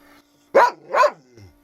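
A dog gives two close, loud barks in quick succession, ending with a short low growl.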